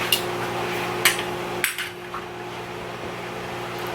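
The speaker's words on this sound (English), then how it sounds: "Let me use some barbecue tongs." Barbecue tongs clack against a cooking pan in three or four sharp, close metallic knocks, spaced about half a second apart, over a steady low kitchen hum.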